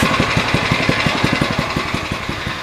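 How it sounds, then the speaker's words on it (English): A MotoVox minibike's small engine idles just after a cold start, chugging in a fast, steady, slightly uneven rhythm of pulses, loud and close with no voices. "Give you a nice little cold start."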